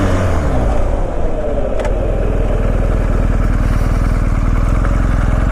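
A BMW R1250GS motorcycle brakes hard in a brake test, its engine a loud, close, steady drone with rapid firing pulses that ease slightly as the bike slows, with no talk over it.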